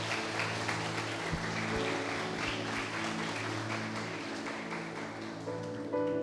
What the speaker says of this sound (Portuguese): Aplaude Jesus aí.